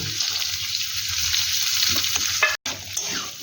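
Onion, green chilli, tomato, ginger and garlic fry in hot oil with a steady, close sizzle, a few stirring scrapes, and a brief cut near the end.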